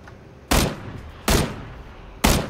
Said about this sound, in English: now I'm hearing sniper shots from that direction